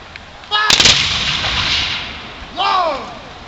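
Artillery cannon fired at extreme elevation during a reenactment at a Bucktail reunion: one loud, close blast rolls into a long fading rumble, with a shouted command heard just before it.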